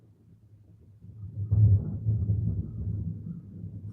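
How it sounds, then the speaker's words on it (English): Thunder from a passing thunderstorm rolls in as a deep, low rumble that swells after about a second and keeps grumbling steadily to the end, with no voices over it. "Fuck these thunderstorms"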